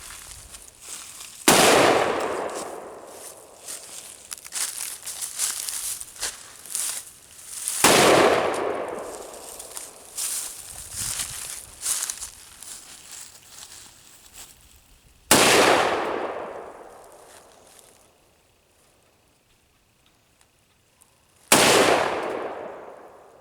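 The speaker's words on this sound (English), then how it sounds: "Got more of a muzzle blast too, shorter barrel." Four loud, sharp short-barrel rifle shots ring out outdoors in the cold, spaced several seconds apart, each followed by a long echoing decay of muzzle blast.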